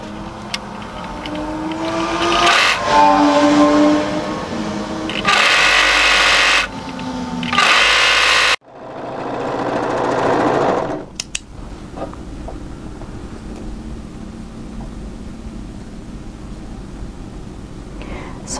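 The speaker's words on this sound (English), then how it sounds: "we're going to overlock that together" Overlocker stitching fabric pieces together, loud, fast whirring runs that start and stop in several bursts, followed by quieter handling noises and faint clicks near the machine.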